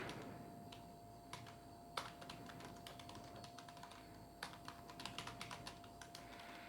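A computer keyboard is typed on while code is written, quiet clusters of crisp key clicks in uneven bursts with short pauses and a steady faint hum behind, no talking.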